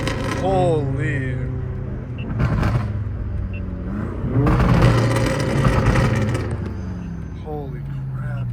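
Straight-piped BMW M3, M4 and M5 exhausts roar through city streets, with engine surges swelling and fading and one loud rev in the middle, while people talk over much of it.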